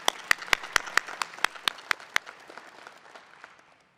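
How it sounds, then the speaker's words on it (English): Scattered audience applause at a 2021 curriculum honors ceremony: about ten distinct, fairly loud hand claps in a loose rhythm, thinning into softer, quieter clapping that fades away over four seconds. "Can we have a round of applause for Matt?"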